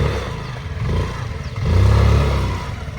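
A Honda Activa scooter's engine revs in a low, rough drone that rises and falls in two surges, swelling louder and heavier in the second half, with light clattering and no talk.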